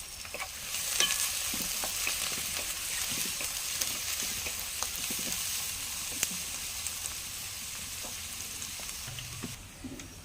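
Onions fry in a pan for an egg masala curry, a steady hissing sizzle that runs throughout, punctuated by scattered clicks and light stirring scrapes, with no talk.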